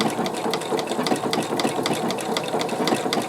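A sewing machine stitching appliqué along a fabric edge runs steadily and close, its rapid rhythmic needle clatter continuous throughout.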